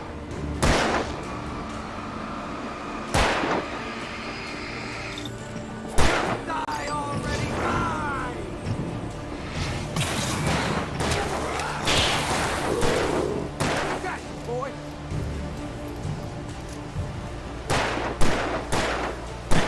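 Repeated gunshots in the video game Alan Wake Remastered, sharp loud bangs at irregular intervals, some in quick clusters, over a dense rumbling game soundscape.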